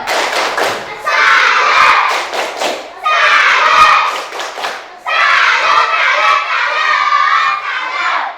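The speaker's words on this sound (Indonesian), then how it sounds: "Beri tepuk salut dulu untuk kelompok 2" Children in a classroom perform a patterned salute clapping routine for a group, with bursts of rhythmic group claps and thumps broken up by loud chanted shouting from the whole class.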